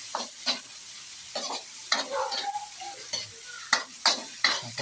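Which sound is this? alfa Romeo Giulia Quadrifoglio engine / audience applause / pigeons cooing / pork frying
pork frying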